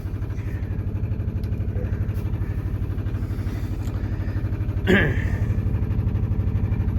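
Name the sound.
sailboat engine warming up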